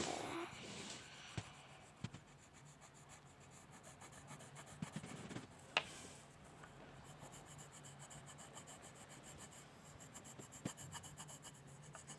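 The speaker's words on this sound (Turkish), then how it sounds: "Şimdi bu kalemle de şuralardan geçeceğiz" Pencil rubbing and scratching across paper while coloring a paper fairy wing craft, a steady soft rasping that runs throughout with a few louder strokes, close up and with no talking.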